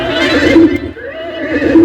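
A voice imitates a horse neighing for a comic Kannada skit, a loud, close whinny rising and falling twice over about two seconds.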